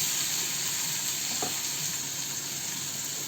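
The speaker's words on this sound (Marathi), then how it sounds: "इथे टोमॅटोला गाळा नाही करायचा, तर परतून घ्यायचा आहे." Sliced tomato sautéing in a pan, a soft, even sizzle at low volume with a single faint stir or tap partway through.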